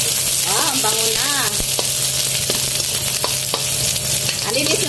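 Chopped onions sizzle and fry in a hot pan for a Filipino vegetable and sardine dish, a steady broadband hiss with occasional stirring scrapes and clinks; a few faint voice-like tones rise briefly over the frying.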